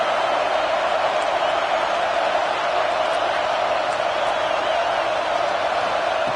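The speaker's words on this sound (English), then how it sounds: "this home crowd is fired up and ready to make a difference today" Home crowd cheering and roaring in a College Football 26 video game, a steady, dense wall of crowd noise sustained throughout without breaks, loud and continuous.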